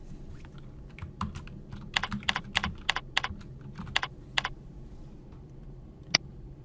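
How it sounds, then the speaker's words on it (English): Someone types on a computer keyboard, a quick run of crisp, close keystrokes with brief pauses and a final isolated key press. "typing in Mars rover"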